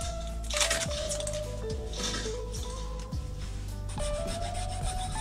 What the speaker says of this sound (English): Now a lot of smoothing down now with various files